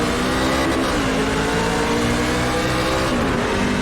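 A Ford F150 race truck roars loudly and continuously around Bristol in the iRacing game, its engine held at high revs with a dense, harsh tone and no pauses.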